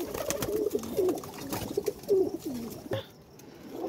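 Pigeons cooing in a series of soft, rolling coos repeated through the clip, fairly close, with faint background noise and no talk.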